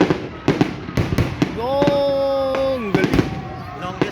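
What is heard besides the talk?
Canada Day fireworks exploding over lake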